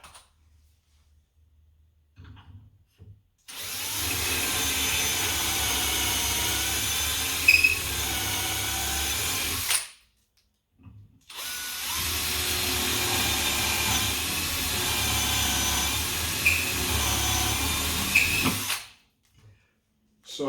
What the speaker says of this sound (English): I've got this stop on this drill set to not quite go all the way through the door